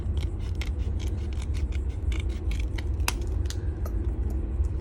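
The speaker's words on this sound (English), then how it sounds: "I'm gonna cut this just straight through here like this." Scissors snip through a rub-on transfer sheet in a quick run of crisp, close cuts over a low background hum.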